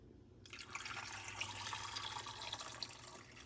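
Water pours steadily into a jar of eggs being filled for water-glass storage, a soft continuous trickling and splashing that starts abruptly and stays fairly quiet.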